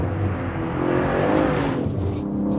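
A sports car, either a BMW M3 Competition G80 or an Alfa Romeo Giulia Quadrifoglio, revs hard under acceleration on a slippery road, with a continuous rising engine note and road rumble and no talk.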